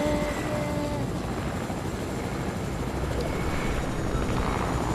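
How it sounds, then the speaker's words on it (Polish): Helicopter rotor and engine drone in the video game Fortnite, a steady broadband whir held at an even moderate level throughout with no talk. "Chyba jakiś helikopter spadnie."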